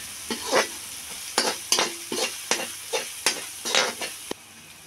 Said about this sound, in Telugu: పచ్చి వాసన పోయేంత వరకు బాగా ఏంపుకోవాలండి